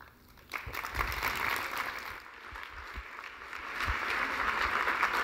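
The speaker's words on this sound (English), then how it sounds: "Let's give them one more round of applause." A conference audience applauds at a leadership forum's closing debate, dense clapping from a large crowd that swells and holds steady throughout, with no talk over it.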